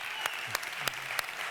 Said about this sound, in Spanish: Un aplauso a estos dos cracks